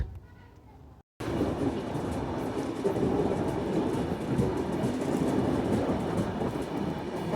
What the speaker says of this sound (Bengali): আমাদের ট্রেনটি এখন চলে আসলো